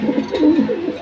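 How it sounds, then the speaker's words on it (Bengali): Homer pigeons coo in a low, throaty, rolling burble that swells and fades across a single short phrase, close by with no talk over it. "এগুলো হ্যামার কবুতরই"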